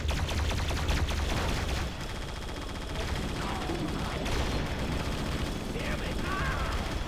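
Modded weapon firing in the Halo video game, a dense run of repeated gunshots with a loud stretch at the start, then steady shooting layered with game effects, loud and close, with someone talking over part of it.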